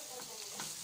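Onion with black pepper, salt and olive oil sizzles steadily in a pan, a soft continuous frying hiss with faint stirring over the short moment.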